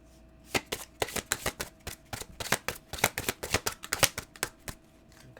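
Oracle cards being shuffled by hand in a quiet room, a rapid run of crisp riffling slaps in uneven bursts, close and clear with no voices.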